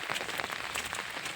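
Steady rain falls on a garden, a dense, even patter of drops close by with no voices and no pause across the short stretch.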